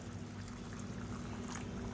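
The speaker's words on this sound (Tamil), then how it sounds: "இந்த ஸ்டேஜில் தண்ணி சேர்த்துக்கலாம். நல்லா சூடான தண்ணியாக சேர்த்துக்கோங்க." Hot water pours into simmering biryani gravy in a cooking pot, a steady close splashing rush that continues without a break.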